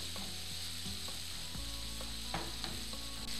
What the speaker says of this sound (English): just about the time that the bacon starts to get crispy, I would add the shrimp